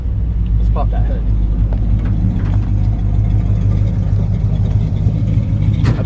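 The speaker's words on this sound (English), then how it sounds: "But you can hear a nice, like I said, nice, healthy, strong engine." A 1957 Chevy 3100 truck's engine idles steadily up close, a deep continuous low rumble with a few light clicks over it, running the whole time without talk.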